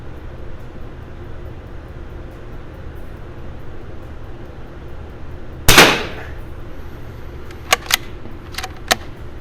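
A French MAS Model 45 .22lr bolt-action military training rifle fires one sharp, crisp shot at a range, with a brief ringing tail. A few lighter, quick clicks follow over a steady low background hum.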